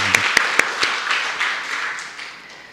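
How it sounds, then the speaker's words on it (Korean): Congregation at a Sunday morning service applauding the choir and worship team, opening with a few distinct close claps that swell into a broad round of applause, then gradually fading. "하나님께 영광의 박수 올려드리도록 하겠습니다"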